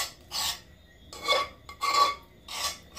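A utensil scrapes blended Irish moss out of a blender jar in four close, rasping strokes with short pauses between them and no talk.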